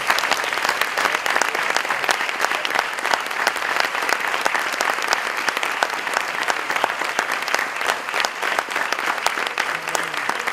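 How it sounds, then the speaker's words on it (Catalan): An audience claps warmly and continuously, a thick, even wash of many hands that holds steady for about ten seconds without fading. "També un aplaudiment pel Pep Sans, que es recuperi aviat."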